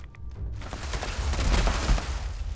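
Rapid explosive blasts from a two-shot handmade rifle with explosive rounds in Fallout 76, fired at water, form a dense, loud, continuous barrage of booming shots with no talk.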